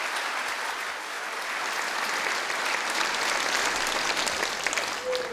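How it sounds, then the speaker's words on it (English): An audience claps at a high school senior awards ceremony, with steady, dense applause from a large crowd filling the hall throughout and no voices above it. "give your seniors a round of applause because they deserve it"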